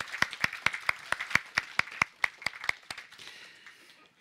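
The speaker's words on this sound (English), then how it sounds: "Let's send you off with a warm round of applause." A conference audience claps in distinct individual hand claps, about a dozen sharp claps in steady rhythm fading into softer scattered clapping, fairly close and with no talk.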